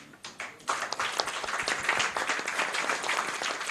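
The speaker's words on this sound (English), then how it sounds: "give a befitting applause to our speaker" Audience at a Rotary club membership month launch breaking into applause for a speaker, a few scattered claps swelling quickly into dense, sustained clapping from a mid-sized crowd.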